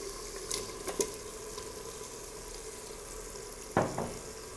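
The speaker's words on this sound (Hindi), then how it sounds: "गोश्त को भी हम मसाले के साथ भून लेंगे।" Boiled mutton fries with masala in a pan, giving a steady close sizzle broken by a few brief scrapes and clinks of a stirring spoon.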